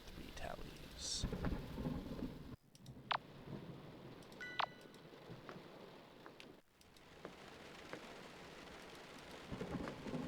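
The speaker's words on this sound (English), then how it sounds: "It's interesting that it's raining this time." Rain falls steadily in the Sucker For Love horror game while rolls of thunder rumble low underneath, broken by a few sharp clicks and brief abrupt cuts in the sound.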